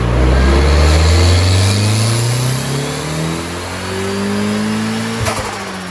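A turbocharged Mazda Miata engine revs hard on a dyno, its loud rising drone climbing steadily in pitch for several seconds before easing off, with no voices over it.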